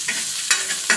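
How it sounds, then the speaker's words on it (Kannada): Curry leaves hit hot oil while a spoon stirs them with garlic for okra sukha fry: a bright, steady sizzle broken by three sharp bursts of crackling and scraping, close-up and alone. "ಸ್ವಲ್ಪ ಕರಿಬೇವು ಸೊಪ್ಪು ಹಾಕ್ಕೊಂಡು ಮಿಕ್ಸ್ ಮಾಡ್ಕೊಳ್ಳಿ ಎಣ್ಣೆಯಲ್ಲಿ"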